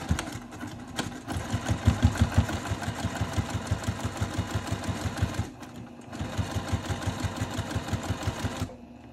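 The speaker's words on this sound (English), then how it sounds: "So now I'm gonna go to the sewing machine and I'm gonna sew a 1/4 inch seam allowance." A home sewing machine stitches a quarter-inch seam on a crossbody bag, guided by the edge of a zipper foot, running in a steady rapid mechanical rhythm with a brief pause midway before resuming.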